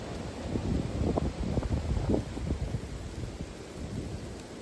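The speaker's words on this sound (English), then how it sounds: "The wind picked up and it's, I guess you would call this sleeting." Wind-driven sleet and rain lash a cabin, a steady broadband wash of gusting wind and pelting precipitation with low rumbling buffets, loudest in the first two seconds and easing slightly after.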